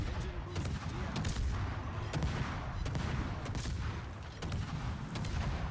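Naval gunfire in the World of Warships video game: repeated booming salvos and sharp cracks over a constant rumbling battle background, with faint talk mixed in.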